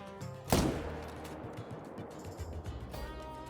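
A single sharp rifle shot fired at a bison in the hunting video game Call of the Wild, a loud crack followed by a fading echo over quiet outdoor ambience.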